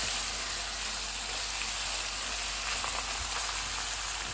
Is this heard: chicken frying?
yes